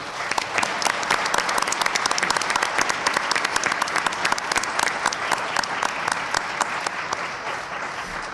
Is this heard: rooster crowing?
no